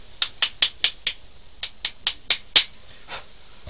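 A small hammer taps a part on a Losi RZR Rey RC car: about eleven crisp metallic taps in a quick rhythm, close and bright, pausing briefly after the fourth and ending with a fainter knock.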